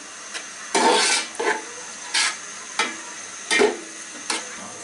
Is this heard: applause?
no